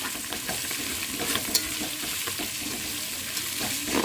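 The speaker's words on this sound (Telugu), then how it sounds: "దీంట్లోకి లైట్గా పుదీనా కొద్దిమీర వేసేద్దాం వేసేసుకొని బాగా మిక్స్ చేసేసుకుందాం" Mint and coriander get stirred into a curry frying in a pan, with a steady sizzle and irregular scraping of the spoon, close and continuous.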